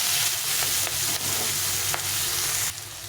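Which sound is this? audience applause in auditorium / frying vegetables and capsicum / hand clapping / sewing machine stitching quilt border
frying vegetables and capsicum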